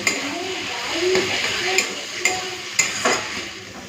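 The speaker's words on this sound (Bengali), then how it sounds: "ভালো করে ভেজে নেব" Cabbage paste with turmeric, salt and a little sugar fries in a pan while a spatula stirs it, giving regular scraping clacks over a soft, constant sizzle.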